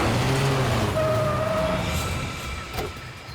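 A car drives fast during a tense chase, a loud steady road and engine rush with passing tonal whines that fades slightly toward the end, with no talk heard.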